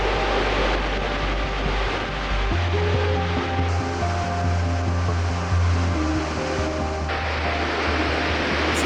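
A large waterfall roars in Iceland's north, a loud, steady broadband rush of falling water heard continuously with some low rumble and faint tonal hum, no voices.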